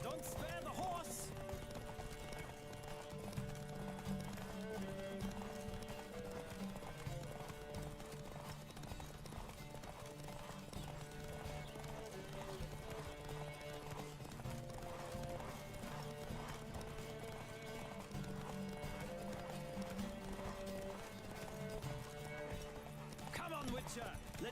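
Galloping horse hooves in a video game, The Witcher 3, clatter in a fast, steady rhythm over a long stretch, with music and occasional voices mixed in.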